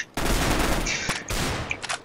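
Rapid automatic gunfire in the video game CS:GO, two loud bursts of shots split by a brief gap, followed by a few scattered fainter reports and mechanical clicks.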